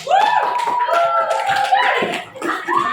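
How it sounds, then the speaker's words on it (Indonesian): Students in a school classroom clap for a presenting group, a short patter of hand claps mixed with voices calling out over it. "Reza tepuk tangan untuk kelompok 2."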